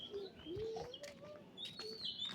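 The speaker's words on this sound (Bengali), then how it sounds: "পাখি ডাকতেছে" Birds chirp and call outdoors in a breezy village, with thin high whistles and a low cooing phrase repeating over a steady wind rush and no talking.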